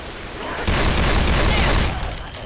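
Dense burst of gunfire in Left 4 Dead 2, a loud volley kicking in after a quieter start and rolling on steadily before tapering off near the end, with a voice faintly in the mix.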